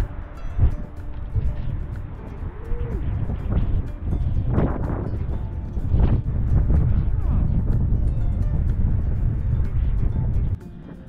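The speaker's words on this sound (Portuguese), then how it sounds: "Caraca, ventania." Strong wind buffeting the microphone at a beach with rough, stormy surf, a steady loud roar with gusty surges throughout and a sudden drop near the end.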